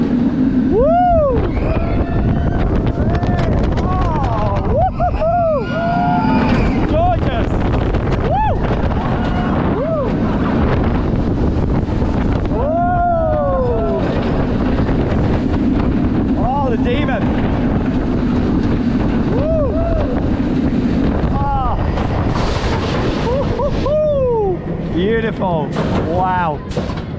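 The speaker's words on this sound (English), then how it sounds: "an absolutely awesome night ride there on the Dæmonen" Dæmonen roller coaster on a night ride at Tivoli Gardens, a constant loud rumbling roar of the train on the track throughout, with riders shouting and cheering over it.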